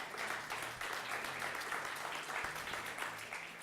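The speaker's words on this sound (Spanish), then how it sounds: "Dámosle un aplauso al Señor." A church congregation applauds during a Spanish-language sermon, a steady, dense wash of clapping heard from some distance, fairly soft and continuous for several seconds with no speech over it.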